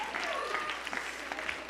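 Audience applause at a Family Federation church event, continuous clapping filling the hall with faint crowd voices mixed underneath.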